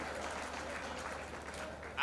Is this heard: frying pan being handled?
no